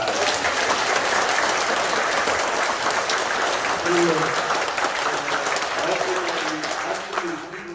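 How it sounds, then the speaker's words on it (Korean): Steady, loud applause from a church congregation fills the whole stretch, with a voice speaking over the clapping. "박수 칩시다"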